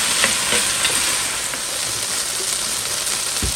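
Chicken frying in a single layer in a pan for chow mein, a dense, even crackling sizzle that holds steady throughout, close and fairly loud.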